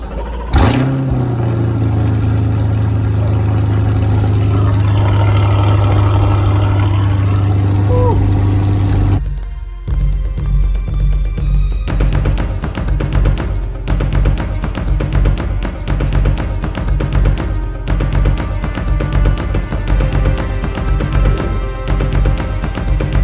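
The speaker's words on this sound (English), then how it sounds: "you get to see cold start using the remote on this 2021 Corvette Z51" A 2021 Chevrolet Corvette Z51 with performance exhaust cold-starts by remote: a sharp starter crank and loud flare, a high steady fast idle, then a pause before the engine settles into a lower, throbbing idle.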